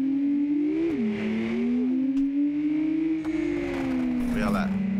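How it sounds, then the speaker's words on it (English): A boosted Porsche in the driving game BeamNG.drive, a steady engine drone with pitch rising and falling through gear changes, under a voice talking. "It's kind of cool how my car sounds slightly different than y'all's, because mine is boosted"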